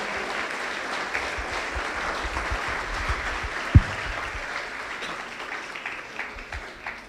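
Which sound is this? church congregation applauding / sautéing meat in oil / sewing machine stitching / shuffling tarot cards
church congregation applauding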